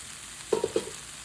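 Onion and cucumber frying in a pan for a Kerala prawn thoran: a quiet background hiss broken by three or four short stirring scrapes in quick succession, with no voices.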